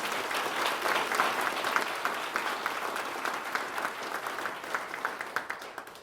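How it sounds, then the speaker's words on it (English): An awards ceremony audience applauds the event's sponsors with sustained, moderately loud clapping from a roomful of people, a steady patter that thins slightly toward the end with a few individual claps standing out. "So let's have a round of applause for the sponsors."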